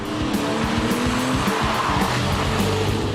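A sports car with a 3.8-liter six-cylinder boxer engine mounted in the rear accelerates hard with direct gasoline injection, giving a loud, steady engine roar that holds throughout, with rhythmic low pulsing and a hint of tire noise, close by and with no talking.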